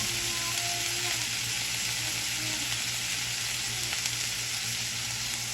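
Carrots and chayote hit a hot pan for miki guisado, giving a steady, close, loud sizzle and crackle of frying vegetables that runs evenly throughout with no voices.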